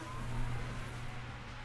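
Race car engine in F1 Manager 22, a Haas overtaking: a steady, loud engine drone with a slight swell near the start, continuous for under two seconds with no voices.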